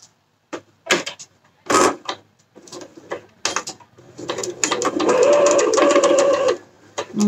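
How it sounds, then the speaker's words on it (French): A sewing machine starts a seam along a chalk line with a few short stop-start bursts for a backstitch, then runs steadily for about two seconds, close and clear, with brief handling sounds between. "Donc, je couds comme ça. Donc, je fais un point d'arrêt au début."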